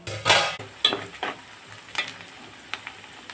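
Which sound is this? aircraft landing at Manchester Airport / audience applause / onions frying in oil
onions frying in oil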